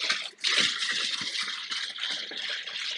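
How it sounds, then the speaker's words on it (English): Water splashes and gurgles steadily as a basic coral timeout tank is being filled, a continuous close bright splashing with small bubbling bursts throughout and no talking. "Y'all hear that splishity splash splash?"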